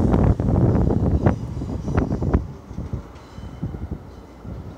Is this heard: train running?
yes